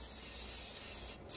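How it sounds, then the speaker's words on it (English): Manol brake cleaner sprays in a steady, loud, close hiss onto car brake parts on a Vauxhall Opel Insignia, with a brief break near the end before the spray resumes. "Okay, so I'm using some brake cleaner."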